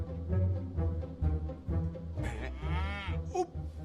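Water buffaloes low nearby, deep drawn-out moos rising and falling in several calls, one longer bellow standing out near the end, with faint background noise.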